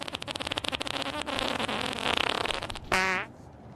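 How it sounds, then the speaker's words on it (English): Flatulence is blown straight into a close microphone, a run of loud, buzzy, rasping pulses that stutter and flutter, then end in a brief, higher, squeaky tone before falling quiet. "he's farting in the mic"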